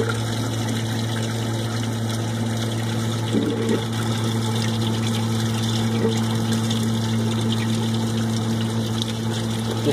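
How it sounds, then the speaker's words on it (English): A greywater system pump discharges water onto landscaping, giving a steady, loud mechanical hum with rushing, trickling water, continuous and unchanging throughout with no voices. "Landscape is being watered. Greywater comes out."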